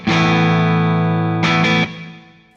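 An electric guitar through a Soldano SLO amplifier on its second channel with reverb in the effects loop: a loud, distorted sustained chord rings out, another strum follows, then the reverb tail decays.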